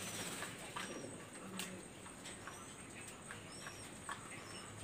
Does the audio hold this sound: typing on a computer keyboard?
no